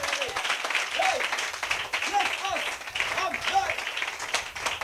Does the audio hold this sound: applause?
yes